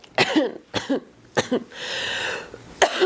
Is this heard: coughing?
yes